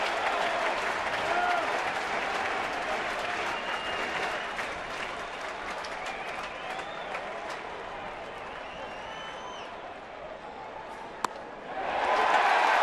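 A baseball stadium crowd at a Giants vs. Dodgers game cheers and applauds in a sustained, dense roar that swells again near the end, while a commentator talks over it.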